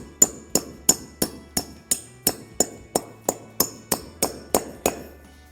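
Metal anchor bolt being hammered into a drilled concrete hole during garage kit assembly, fourteen sharp, evenly spaced hammer blows ringing out at a steady rhythm, close and clear.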